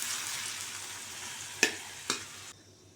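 Coriander chutney ingredients sautéing in a pan give a steady, close sizzle, broken by two sharp utensil taps near the end before the sound cuts off.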